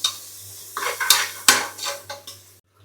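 A tomato goes into frying ginger-garlic paste in a pan; a spoon clanks and scrapes against the metal several times over a soft sizzle before the sound cuts off abruptly.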